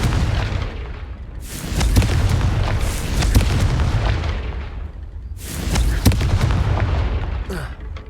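Confringo blasting spell explosions in the video game Hogwarts Legacy: two loud booming bursts, each followed by a long rumbling decay, with dense game effects and a sharp crack near the second blast.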